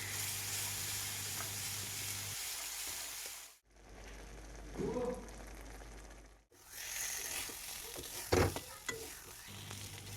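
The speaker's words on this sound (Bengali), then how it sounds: "দিয়ে ব্যাস এবার এটাকে পুর বানানোর জন্য এটাকে নাড়াতে থাকবো যতক্ষণ না এটা পুরো ড্রাই হয়ে যায়।" A pea paste fries in oil in a pan for kochuri filling: a continuous close sizzle with scraping stir strokes, briefly interrupted, and a few louder knocks of the spatula.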